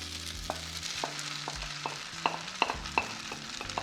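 Onions hiss in a hot pan for fried noodles, a soft steady sizzle with several sharp spatula taps and scrapes against the pan, close and without voices.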